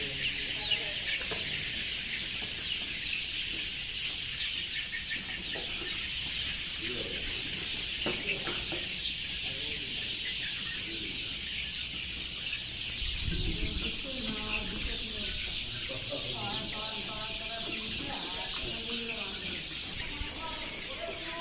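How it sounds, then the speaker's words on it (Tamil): Sonali chickens about 45 days old cluck and chirp continuously at a poultry farm, a dense flock chorus over steady background hiss, with a nearer burst of clucking later. "இந்த கோழி பார்த்தீங்கன்னா சோனாலி கோழிங்க."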